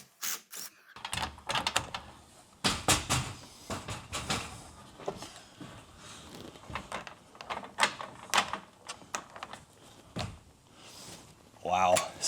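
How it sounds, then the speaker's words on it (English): A pocket door slides along its track in a framed wall under construction, with a series of scraping rolls and knocks at varying strength, interspersed with handling clatter and some talking. "I was cursing on those cheap doors sliding in"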